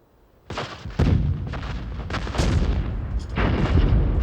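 Artillery barrage at the start of a battle: heavy booming gunfire, with a first blast near half a second, then continuous overlapping roars and thuds that build and stay loud to the end.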